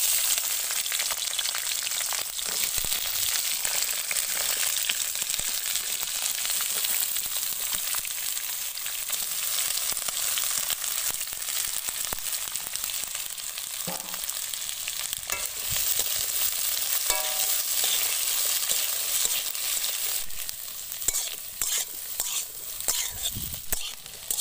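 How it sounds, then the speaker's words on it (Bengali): Ivy gourd (kundri) frying lightly in oil, a steady close-up sizzle and crackle running throughout with occasional stirring scrapes, busier and more uneven toward the end. "এবার আমি কুঁদরিটা হালকা ভেজে নেব।"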